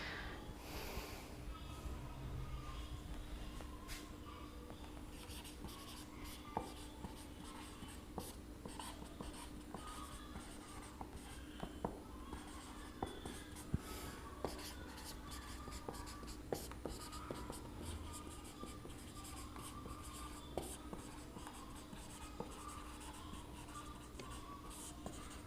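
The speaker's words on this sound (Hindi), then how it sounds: "तो उसको लिख लेते हैं।" Handwriting during a civil engineering lecture on railway bridges and tunnels, with steady soft scratching and tapping of a pen or marker going on continuously for the whole stretch, close and quiet over a constant low hum.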